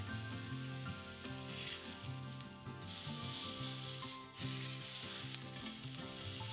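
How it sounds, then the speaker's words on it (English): A thick Scotch fillet steak searing in hot canola oil in a pan gives a constant loud sizzle, with music playing steadily underneath and no voices. "Place the steak in the center of the pan."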